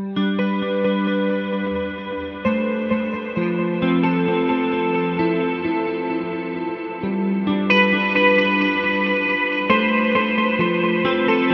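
Electric guitar chords played through ambient effects on an HX Stomp, strummed in changing shapes with lush chorus, echo and reverb. The wash is loud and sustained, with fresh strums every couple of seconds and no voices.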